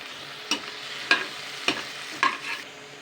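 Ridge gourd gently stirred as it fries in a pan: a soft continuous sizzle broken by four distinct spatula scrapes against the metal, evenly spaced and close.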